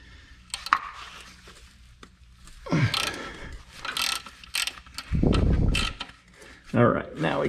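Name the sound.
wrench loosening engine bolts on 1982 Camaro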